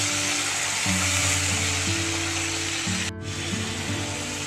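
Prawns fry in hot oil, giving a continuous soft hiss that sits beneath louder steady background music.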